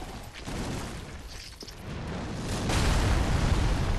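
Explosion in the video game Dark Souls 3, a dull roaring blast with rumbling debris that swells into a loud sustained low boom after a quieter rushing buildup, with no talk.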